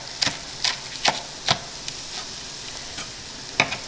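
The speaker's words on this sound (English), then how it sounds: "thinly dice these scallions as well" A knife thinly dices scallions on a cutting board, giving a handful of sharp, irregularly spaced chops close by, with quiet gaps between them and no talking.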